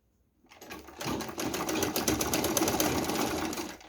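A sewing machine stitches fabric, starting from silence and quickly building to a close, steady, rapid mechanical whir that runs without a break to the end.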